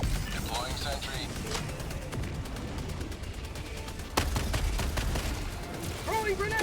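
Rapid automatic gunfire from a deployed sentry gun in Helldivers 2 during a solo max-difficulty mission against the Illuminate, sounding as a continuous rattling burst among other battle effects, with one sharp louder impact partway through.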